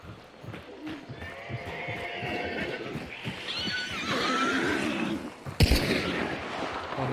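A horse neighs in the video game Hunt: Showdown, a drawn-out whinny that rises over a background of clopping and distant gunfire, then a sharp bang near the end.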